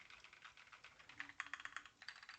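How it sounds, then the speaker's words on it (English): Quiet, close keyboard typing with a quick irregular patter of light key clicks, some strokes sharper than others, with no voices. "I'm going to type on a keyboard right here in front of us"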